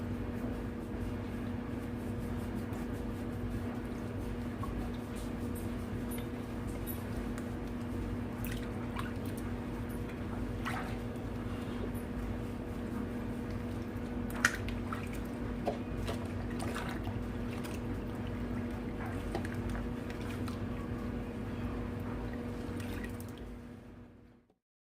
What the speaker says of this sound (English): Finished rinsing his hair.